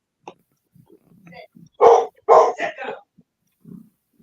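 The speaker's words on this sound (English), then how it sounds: "I wanted you to hear the dog barking" A dog barks in two loud, close bursts near the middle, with a few fainter yips and scattered low sounds around them and no talk.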